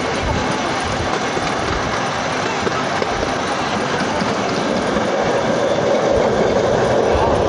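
Riding aboard a rolling freight train, a steady, loud rumble fills the air with continuous rattling and clickety-clack of the cars on the rails.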